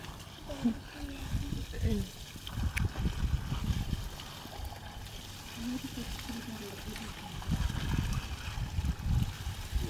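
Mowgli, a young chimpanzee at a sanctuary, splashes and sloshes a boot in water, with a steady wet trickling and dabbling running throughout beneath a person talking nearby.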